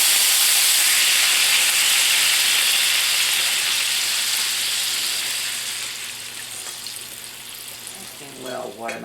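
Streak o' lean sizzles and splatters loudly in a hot pan, a dense frying hiss that slowly eases and thins toward the end, where a brief voice-like sound cuts in.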